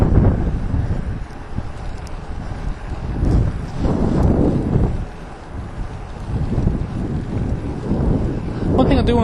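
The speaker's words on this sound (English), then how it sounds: "It's actually getting quite windy. You can probably hear that on the video a bit" Gusty wind buffets the microphone outdoors, a loud rumbling roar that swells and fades in uneven waves across the whole stretch.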